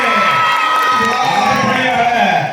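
A crowd at a parish Christmas celebration cheers and shouts loudly, children's voices rising in sustained whoops that carry evenly to the end.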